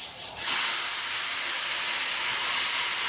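Meat poured into hot oil in a wok, giving a steady, close, loud sizzling hiss that holds for a few seconds.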